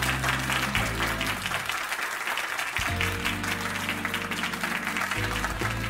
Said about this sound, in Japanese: よろしければ拍手をいただけますでしょうか。